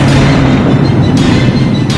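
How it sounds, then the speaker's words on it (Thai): Explosion power attack in the video game ARK, a dense rumbling boom that fills the whole two seconds loudly, with no voice over it. "ปล่อยพลังระเบิด"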